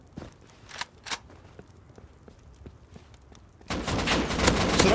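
Gunfire in the survival game Rust: a few sharp distant shots and scattered footstep-like clicks, then a dense burst of loud rapid firing near the end.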